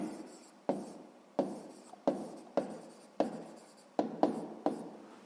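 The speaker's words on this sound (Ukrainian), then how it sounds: "Ну що ж, записуємо отже." Pen or pencil writing numbers on paper, a series of scratchy strokes starting and stopping every half second or so, close and fairly quiet, with no talk.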